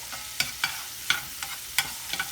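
Sausage being broken up and scrambled in a frying pan: a run of short, close scraping clinks from a utensil against the pan, roughly every half second, over a faint sizzle.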